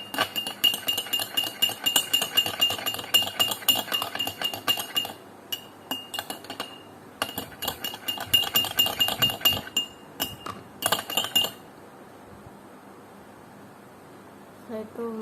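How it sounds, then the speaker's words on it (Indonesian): A spoon stirs liquid from elephant grass in a glass, giving rapid bright clinks in steady bursts, close and loud, with brief pauses and a quieter stretch near the end. "Setelah itu kita aduk."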